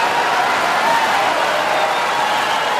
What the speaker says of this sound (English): the crowd vociferously gets behind a man who is obviously the favorite